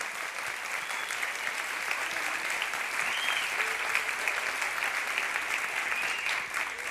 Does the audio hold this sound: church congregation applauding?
yes